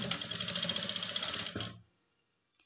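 A sewing machine stitches a blouse lining in a steady rapid whir for about a second and a half, then stops abruptly, leaving near silence with a couple of faint clicks.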